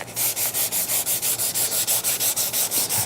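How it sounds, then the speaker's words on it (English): Steady back-and-forth sanding strokes rasp across the bottom face of a wooden piece, the final pass after its four edges have been rounded over, repeating in an even rhythm, close and fairly loud with no voices. "I'm just doing the final sanding on the bottom here."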